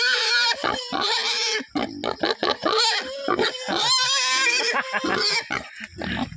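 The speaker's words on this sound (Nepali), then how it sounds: "सुँगुर चाहिँ पुरा भोकाएर कराएको करै छ" Hungry pigs on a farm at feeding time squeal loudly and grunt close by, a near-continuous chorus of shrill cries broken by brief pauses, with no talking.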